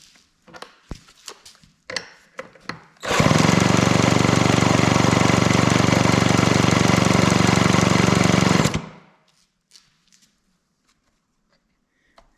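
A vintage Homelite Zip chainsaw with a stuck engine is pulled over and cranked, giving a loud continuous mechanical roar for about six seconds that stops abruptly, with clicks and handling before and near-silence after.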